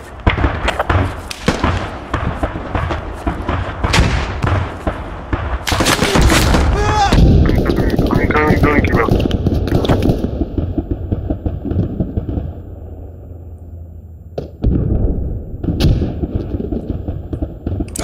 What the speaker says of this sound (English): Huntman, just keep shooting.